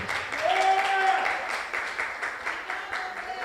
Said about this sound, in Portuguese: Não, por favor, aplauda mesmo.